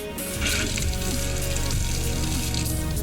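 Cold water runs from a Dometic fold-away faucet into a sink in a 2021 Promaster 2500 camper van, a steady loud splashing stream lasting the whole clip.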